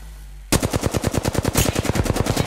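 Rapid automatic gunfire in the video game Apex Legends, a loud, steady burst of evenly spaced shots starting abruptly and running for about two seconds, close and without speech.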